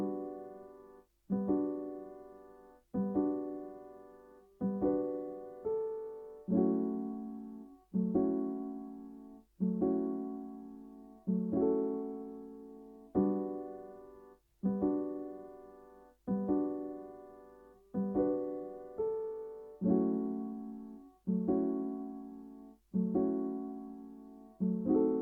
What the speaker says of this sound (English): for this sample I used a Spitfire Labs soft piano, and it sounds like this.